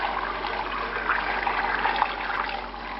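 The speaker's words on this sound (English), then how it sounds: "And you add enough water to cover everything." Water pours steadily into a stockpot over vegetables, garlic, onion, tomato, carrots and celery, a continuous close rushing trickle with no talk.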